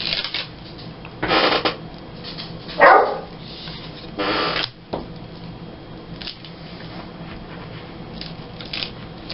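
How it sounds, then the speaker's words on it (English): A dog barks indoors at midnight in a quiet house, several short muffled barks in bursts with rustling and shuffling between them, no talking. "My dog is barking."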